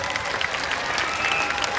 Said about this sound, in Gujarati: તાળીઓથી આપણે આ ભાઈને વધાવી લઈએ એક વખત.